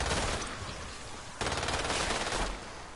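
Rapid automatic gunfire from shooting in the video game Umbrella Corps, a continuous loud rattle of shots that jumps in intensity partway through and runs nearly without pause, with no talk over it.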